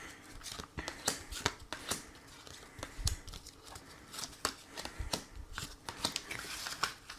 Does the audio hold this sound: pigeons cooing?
no